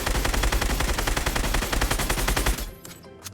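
Fortnite SCAR rifle firing a sustained full-auto burst of rapid, evenly spaced loud shots, then stopping abruptly with a brief tail.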